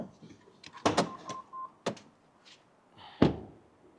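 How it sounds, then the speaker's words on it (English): The bonnet of a 2024 Polestar 2 Performance is popped open: a few close mechanical clunks and thunks with a short whirr between them, then one heavy thud near the end, in a quiet setting. "I want to show you what's underneath the hood or the bonnet, so give me 2 seconds. I'll just pop that open."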